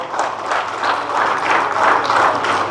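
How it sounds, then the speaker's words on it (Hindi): An audience applauds at a ceremony in Ranchi where appointment letters are handed to district sports officers, producing a steady, dense clapping that stays loud for the whole stretch with no pause. "ताली आपकी तरफ से लगातार हूं"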